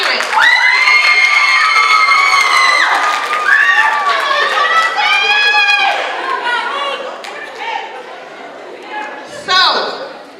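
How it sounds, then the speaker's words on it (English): Crowd cheering at a certified nursing assistant pinning ceremony, loud whoops, shouts and high-pitched cries over scattered clapping, swelling at the start and tapering off with a last burst of cheers. "with all that cheering"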